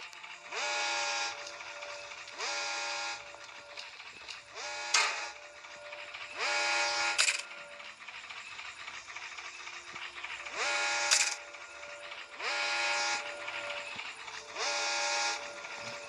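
A vehicle horn in the Granny game honks in repeated long blasts at fairly regular intervals, loud and near, with mechanical clatter in between.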